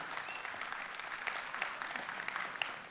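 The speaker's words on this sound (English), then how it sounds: "a big round of applause for Pavan Ranadhira." Steady applause from an audience at a school golden jubilee celebration, a dense patter of clapping that stays even and fairly distant for a few seconds.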